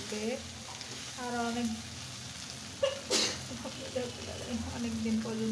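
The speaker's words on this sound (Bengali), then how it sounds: "শুকনো মরিচ, হলুদ, লবণ সব একসাথে খুব সুন্দর করে একদম লাল লাল করে মুচমুচে করে ভেজে নেব" Dried chillies, turmeric and salt fry together in a pan until crisp for a Bengali mash, giving a steady soft sizzle with a voice talking over it throughout.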